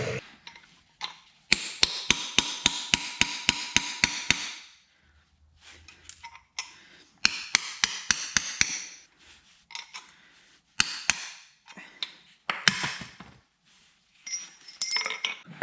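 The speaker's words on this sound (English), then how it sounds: "I'm just gonna use a chisel and a hammer, try and get under this lip" Rapid series of sharp metallic hammer strikes on a chisel prying a bushing out of a Land Cruiser front differential, in bursts, ringing close, with pauses and scattered scraping clinks between the runs of blows.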